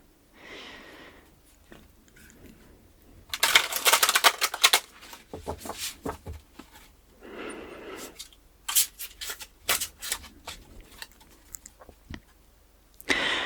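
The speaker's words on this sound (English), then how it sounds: "These cards are enormous, so I'm going to try to shuffle them the best that I can." Large oversized She-Wolf tarot cards shuffled by hand up close, with bursts of crisp riffling and slapping clatter separated by quiet pauses and soft rubbing, no talking.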